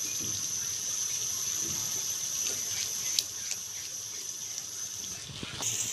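Water runs steadily into a pan while suji halwa with sugar is being made, a continuous close hiss with a bright tone and a few small splashes and clinks.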